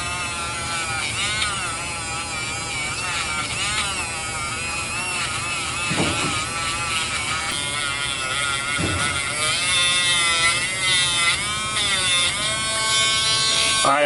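A rotary tool polishes the stainless steel feed ramp of a Kel Tec Sub 2000 carbine, a continuous high buzzing whine that rises and falls in pitch, with someone talking over it throughout.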